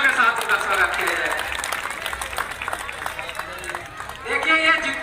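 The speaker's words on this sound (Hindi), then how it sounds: "जोरदार तालियों के साथ उनका स्वागत किया जाए।" A crowd at an outdoor Ramlila stage event in India claps loudly and continuously, with voices over a loudspeaker heard at the start and end of the applause.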